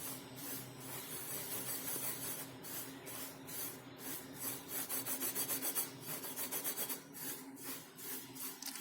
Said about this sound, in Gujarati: તો આ રીતે લોટને ચાળી લેવાનો એટલે એકદમ ઝીણો સરસ લોટ તૈયાર થશે